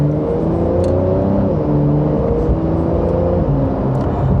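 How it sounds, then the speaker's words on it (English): A rear-engined Porsche 911 Carrera (992.2) pulls steadily accelerating in second gear in Sport Plus, a continuous rising whir and hum heard from inside, with no voices. "So in Sport Plus now, second gear, here we go."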